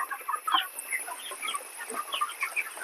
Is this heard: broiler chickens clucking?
yes